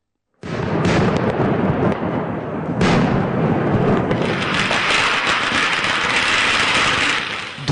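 Diwali firecrackers explode in a dense, continuous barrage, a loud rumbling roar of overlapping bangs and crackles that starts abruptly and keeps going.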